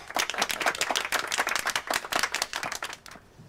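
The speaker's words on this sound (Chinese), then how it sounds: "掌声鼓励。" Diners at a banquet give a short round of applause. Close, crisp hand claps come in a quick, uneven patter from a small group and fade out near the end, with no talk.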